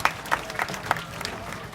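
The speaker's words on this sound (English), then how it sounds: "let's give a big round of applause for papaya" An audience at a bird show claps for Papaya the Swainson's toucan, scattered hand claps over a murmuring crowd, brief and moderately loud with voices mixed in.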